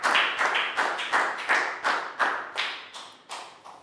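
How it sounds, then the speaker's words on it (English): A small classroom group claps for a student in a Year 4 science lesson, about a dozen evenly spaced, close hand claps in a steady rhythm with no voices. "big round of applause for Lakgao."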